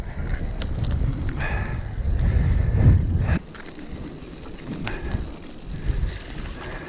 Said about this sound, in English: I was just riding some top quality gravel there